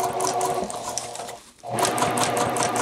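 Sewing machine stitching a set-in jacket sleeve around the underarm, a loud, close, rapid mechanical whirring that pauses briefly in the middle before resuming at the same steady pace.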